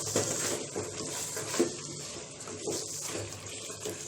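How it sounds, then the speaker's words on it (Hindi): Water pours steadily into a cooking pan of Kashmiri chicken masala gravy with tomatoes over a full flame, a continuous close splashing trickle with no talk. "थोड़ा सा पानी ऐड करेंगे।"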